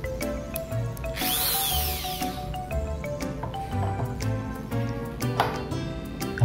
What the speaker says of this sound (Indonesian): Pakai bor ini maksudnya mata bor obeng plus ya maksudnya.